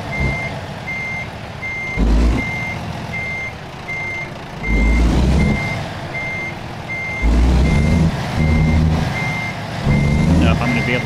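Regular electronic reversing beeps from a truck backing up a trailer in American Truck Simulator, steady pulses running throughout over the low rumble of the engine, which swells in bursts as the throttle is applied.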